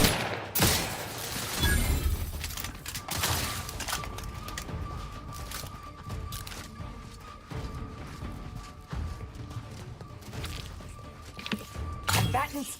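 Rapid automatic gunfire from a sci-fi shooter game plays in bursts over a busy mix of game sound effects and a faint steady tone, with voices talking throughout.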